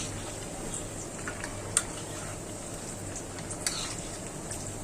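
Gentle frying sizzle from a pot of vegetable curry as cumin powder is stirred in, a steady soft hiss with a few faint clicks of the spoon, no talking.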